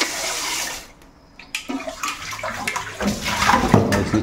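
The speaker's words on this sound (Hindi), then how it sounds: "इस वाले से रख पानी, पानी आ रहा है।" Tap water runs into a cooking pot in a home kitchen during momo preparation, a steady close splashing flow that begins partway through with small clinks of the pot.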